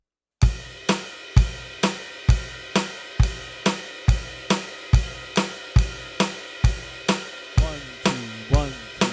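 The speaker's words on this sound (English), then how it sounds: "So 1, 2 with the ride cymbal will sound something like this." Gospel drum beat played on a ride cymbal, a steady run of evenly spaced bright cymbal strikes, each with a shimmering decay, about two hits per second, close and loud with no talking.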